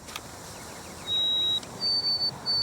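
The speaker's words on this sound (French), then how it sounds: "Un bruant à gorge blanche" A white-throated sparrow whistles clear, pure, high notes: one long tone, then a pause and a series of sustained whistles, standing out against a faint hiss.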